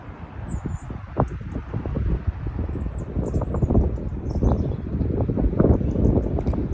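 Gusty wind buffeting the microphone in a continuous low roar on the seafront at Nice on the French Riviera, with faint birds chirping high in the background.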